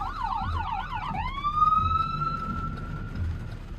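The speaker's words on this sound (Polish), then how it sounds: "Pogotowie jedzie." An ambulance siren passing nearby, first a rapid warbling yelp, then switching to a long rising wail that holds and slowly fades, loud and clear over low traffic rumble.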